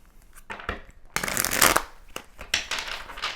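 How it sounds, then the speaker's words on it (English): Tarot cards are shuffled by hand in a quiet room, with a few soft riffles followed by a longer, louder burst of papery flutter and a final quick shuffle, close by and with no talking. "that's the last shuffle."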